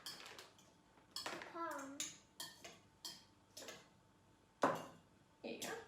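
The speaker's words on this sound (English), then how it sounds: "I'm just stirring it" Vegetable muffin batter is stirred in a bowl with a utensil, making repeated clinks and scrapes against the sides, while people talk over it.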